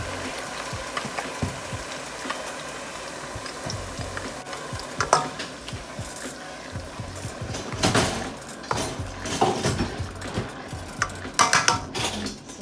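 Blended tomato, pepper and onion poured into a pot of hot oil, sizzling and spattering close by, with a metal spoon scraping and clanking against the pot as it is stirred.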